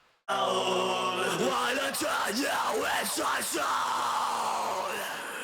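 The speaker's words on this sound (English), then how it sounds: "Heavy distorted screams, which don't sound that good without distortion." Harsh, distorted screaming vocals in an industrial metal track wail and bend over sustained droning music, loud and continuous throughout.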